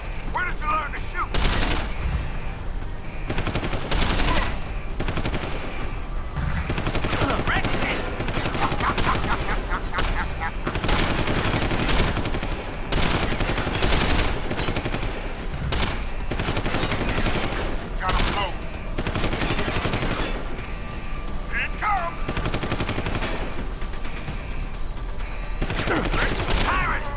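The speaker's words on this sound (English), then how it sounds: "That was a sad way for that gunfight to end." Gunfire in Deus Ex: Human Revolution rattles almost continuously, with loud overlapping bursts of automatic fire and single shots and a brief voice cutting in partway through.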